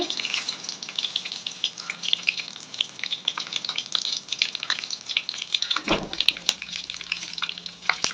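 Fennel seeds and curry leaves frying in hot oil, a dense crackling, popping sizzle throughout, with a few sharp clinks near the end.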